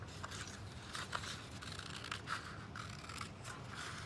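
Scissors snip through paper to cut out a triangle, a series of soft, close crisp cuts in an irregular rhythm, quiet and alone.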